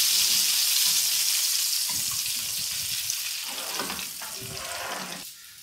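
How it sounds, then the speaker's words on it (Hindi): Garlic, whole red chilies and cumin sizzle and crackle steadily in hot oil as a tadka for moong masoor dal, with a few clinks of a pan or utensil partway through before the sizzle drops off near the end. "अच्छी तरह फ्राई हो चुका है लहसुन और साबुत लाल मिर्च, ज़ीरा ऐड किया है और इसका तड़का लगा देंगे"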